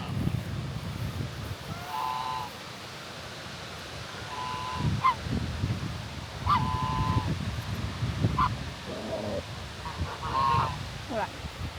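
Geese honk repeatedly in short nasal bursts at an outdoor animal refuge, several calls spread across the scene over wind and rustling, with a pig nearby and a person speaking quietly in the background.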